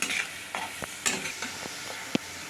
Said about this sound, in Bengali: একটুখানি এটাকে ভেজে এর মধ্যে চিকেনটা দেবো আমি।